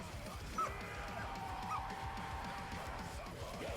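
A wolf companion in Black Ops 3 Zombies gives a couple of short yips and whimpers, quiet and soft against a steady low game ambience.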